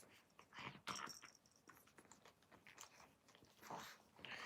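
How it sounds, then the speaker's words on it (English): A puppy chewing on its own feet, with soft, close crunching and nibbling in irregular bursts, quiet against a faint hissy background and possible murmuring. "She's chewing her feet."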